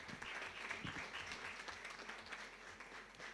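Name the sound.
applause from the audience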